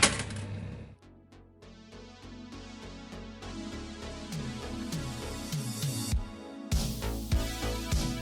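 Old-time video game arcade ambience: a dense, busy wash of overlapping electronic bleeps, jingles and tones from many machines at once, steady and loud throughout, with sharper bursts and sweeps toward the end.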